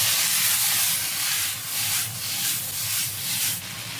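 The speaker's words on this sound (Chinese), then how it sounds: "然后再下入滑好的牛肉继续翻炒。" Beef strips with bell peppers stir-fried in black pepper sauce, sizzling loudly in a hot pan with a steady, hissing spatter that pulses as the meat is tossed, close and alone.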